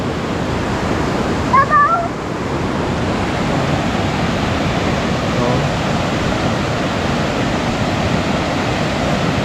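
Loud, constant roar of a rushing river swollen by heavy rain, broad and unbroken, with a brief high chirp or cry near the start.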